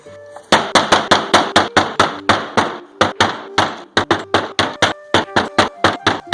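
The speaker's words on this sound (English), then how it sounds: "Next, we'll hammer the stick." A stick struck with a hammer in a woodworking game, giving a loud, close, steady run of about thirty sharp blows in quick, even rhythm, each ringing briefly, with no one talking.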